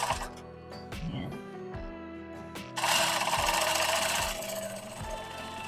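A JUKI treadle sewing machine stitches, first in slow uneven bursts as the treadle is pressed gently, then speeding into a loud, steady run of rapid needle strokes.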